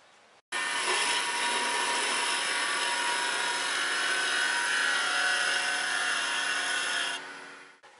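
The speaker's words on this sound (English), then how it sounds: "I'll use an inch wide Forstner bit to drill into" A loud, continuous drill whine as a one-inch Forstner bit grinds into a wooden mallet, starting abruptly and holding steady for several seconds before winding down.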